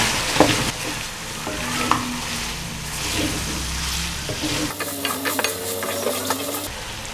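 Ginger and garlic paste with crushed green chilli frying for white chicken karahi, a loud, close, steady sizzle with stirring scrapes and light metallic clinks of a spoon on the pan, no speech.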